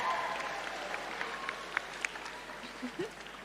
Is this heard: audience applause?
yes